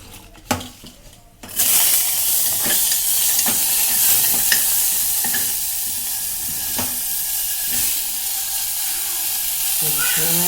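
Vegetables tipped into a hot pan raise a sudden hiss after a few brief clatters, then a continuous frying sizzle carries on with regular utensil scrapes and clinks as they are stirred, and faint voices sit in the background.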